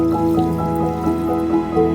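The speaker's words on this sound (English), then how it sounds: "Add some water into the pressure cooker." Water pours and trickles into a metal pressure cooker pot, with ringing, resonant tones and gentle splashing throughout, close and fairly loud.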